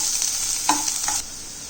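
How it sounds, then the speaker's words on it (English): Onions and prawn masala sizzle steadily in a pan over a high flame, a continuous bright frying hiss with a few soft scraping stirs partway through, close and fairly loud with no talking. "Now we are going to cook this on a high flame for around 1 minute."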